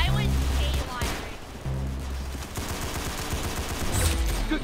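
Bursts of gunfire from the Roblox Arsenal game crackle in rapid volleys with heavy booming shots, loud and dense, while players talk over the action.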